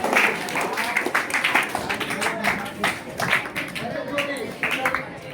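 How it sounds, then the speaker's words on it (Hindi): Audience applause in a crowd at a live quiz contest, a burst of clapping with scattered hand taps that rises and thins over a few seconds, with voices murmuring underneath. "ताली"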